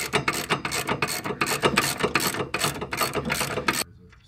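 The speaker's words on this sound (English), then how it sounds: "I'm going to get right up in here under these brake lines and take that nut off" A ratchet on an extension clicks in quick, even bursts while a nut comes off under the brake lines of a vehicle, close and loud, then stops abruptly into quiet.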